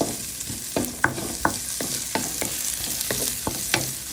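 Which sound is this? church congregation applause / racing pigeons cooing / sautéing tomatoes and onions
sautéing tomatoes and onions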